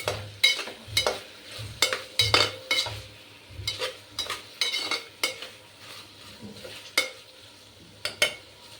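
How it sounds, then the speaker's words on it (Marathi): Potato, tomato, soybean, onion and garlic stir-fried in a pan for veg pulao, with repeated close scraping spoon strokes and clatter over a steady soft sizzle, no voices. "आता बटाटा, टोमॅटो, सोयाबीन, कांदा, लसूण सगळं आपल्याला आहे ना परतवून घ्यायचं आहे."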